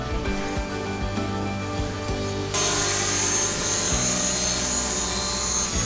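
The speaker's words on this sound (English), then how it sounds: "One thing I do notice with the drone right now is it's not as steady as it used to be" A cheap beginner camera drone flies nearby with a steady, buzzing rotor whine that holds constant and then jumps to a brighter, louder pitch partway through, with no one talking.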